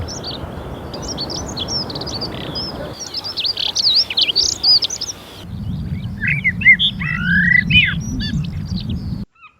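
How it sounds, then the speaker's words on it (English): Dunnock and blackbird song at Northam Burrows, with bright warbling phrases and chirps repeated throughout, close and clear over a steady low rumble of wind or distant surf that drops away briefly midway. "Blackbirds suddenly become very conspicuous. And the normally secretive dunnock pours his music into the air."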